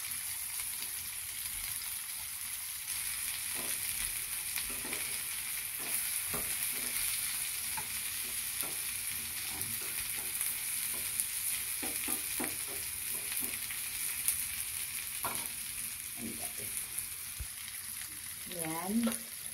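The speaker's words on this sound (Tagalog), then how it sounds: "linagay ko na ng ampalaya para igisa." Bitter gourd (ampalaya) sautéing in a hot pan, a steady loud sizzle running throughout with repeated scraping stir strokes from a spatula, close up and without talk.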